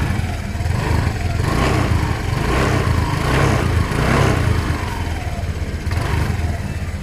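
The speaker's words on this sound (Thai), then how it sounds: "นี่นะครับบิดทีรถมาเลยนะครับ เครื่องค่อนข้างปกตินะครับ" Engine of a 2017 Honda PCX150 scooter revving up close, a steady loud motor drone with the throttle swelling and easing in repeated surges and no talk.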